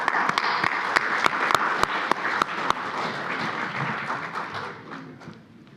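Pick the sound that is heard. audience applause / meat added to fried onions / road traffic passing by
audience applause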